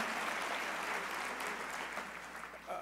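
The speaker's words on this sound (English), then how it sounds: "we can clap for solar, we can clap for clean energy" An audience at a city State of the City address breaks into steady, dense applause, a broad wash of clapping from a sizable crowd that holds fairly even and tapers slightly toward the end.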